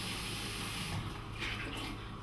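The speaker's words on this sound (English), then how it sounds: "we're going to fresh draw some water, pop in there" Water runs steadily from a kitchen tap into a bowl as the bowl is filled to prepare artichokes, a constant close splashing rush with no talking over it.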